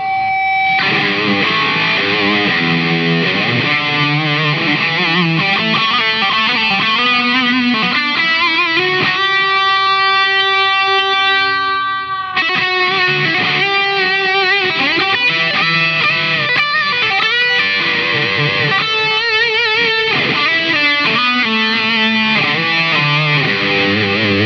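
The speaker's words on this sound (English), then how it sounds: "we've got a distortion pedal in the front" An electric guitar plays through a Marshall Code amp with heavy distortion, notes trailing with delay and reverb, loud and continuous with a sustained chord midway.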